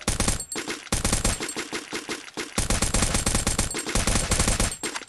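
Rapid automatic gunfire in a Free Fire battle royale fight, loud and sustained in dense bursts with brief pauses, close and dominant with no talk over it.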